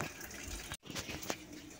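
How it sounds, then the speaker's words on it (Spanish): Tap water pours steadily into a washtub, a close broadband splashing rush with a brief cut in the middle before the flow resumes. "Voy a dejar que se llene de agua la tina."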